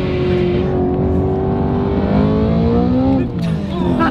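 An 800hp Mitsubishi Evo 8 engine revs hard on downshifts from inside the car, loud and continuous, with the pitch swelling and dropping between gear changes and voices talking faintly underneath.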